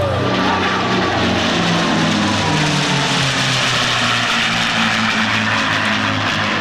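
A P-51 piston-engine fighter flies with the Four Horsemen airshow formation, its propeller engine droning loud and steady overhead with a slowly shifting pitch, and no talk over it.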